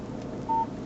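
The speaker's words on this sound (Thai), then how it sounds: "นี่คือเสียงที่เกิดขึ้นในรถนะครับ คือเป็นการส่งสัญญาณผ่านบลูทูธ" A single short electronic beep tone from a Chevrolet Cruze 2012 in-car Bluetooth phone system as an outgoing call is placed, steady and fairly clear against a faint background hiss.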